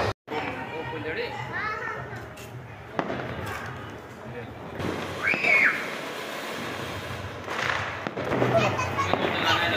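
Diwali firecrackers and rocket bombs going off nearby: a few sharp, scattered bangs and thumps ring out over the constant chatter and shouts of children playing outdoors.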